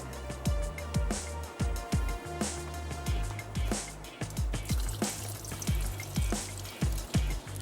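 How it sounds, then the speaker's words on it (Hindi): Soaked rice added to a pot of potatoes and water for tahiri, a string of close, soft splashes and plops in an uneven rhythm, with no speech. "और अब फिर मैं इसमें अब शामिल कर देती हूँ भीगे हुए चावल।"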